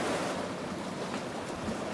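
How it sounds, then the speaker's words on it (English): Water laps at the shore of Pelican Island near Vero Beach, Florida, as a steady, close wash of surf and rushing noise with wind, and no talking. "hopefully you can pick up the lapping water, the sounds of lapping water"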